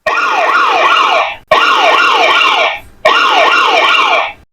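A Maxtel Max14 phone's built-in police-style siren alarm plays loudly and up close in three separate bursts, each a rapid rising-and-falling wail that cuts off sharply.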